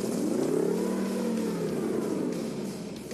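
A Bombardier snow bomber engine revs on a frozen lake, its tone rising and then falling back in a single smooth mid-pitched sweep, loud and close, with no talking.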